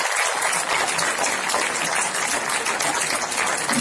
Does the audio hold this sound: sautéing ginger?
no